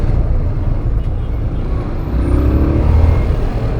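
Steady road traffic rumble heard from a TMX 125 Alpha motorcycle in bumper-to-bumper traffic, a continuous low engine drone with a brief tonal rise near the end, fairly loud and close, no talk.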